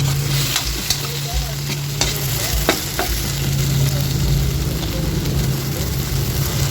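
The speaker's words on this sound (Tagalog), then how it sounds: "Halu-haluin o bali-balik ta rin natin ulit yung ating mga talong." Eggplant slices frying in oil in a pan for a Filipino fried talong dish, a loud, continuous close sizzle broken by faint scrapes and taps as the pieces are turned.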